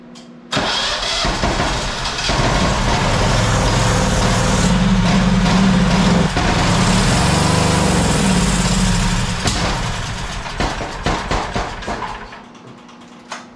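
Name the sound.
Generac generator engine running and backfiring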